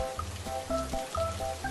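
Cartoon rain patters steadily on surfaces, a continuous close wash of drops with light, tonal dripping accents repeating through it and no voices.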